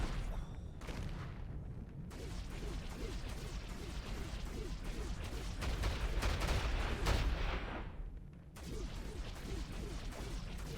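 Repeated fiery blasts and booming impacts from fireball spells cast by a necromancer-fighting enemy in the video game Baldur's Gate: Dark Alliance 2, a rapid rhythmic stream of bursts swelling louder midway, with a brief lull near the end.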